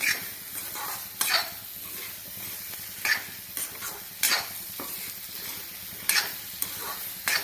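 Okra frying in masala in a pan, stirred with a utensil: continuous close sizzling broken by repeated sharp scraping strokes at irregular intervals.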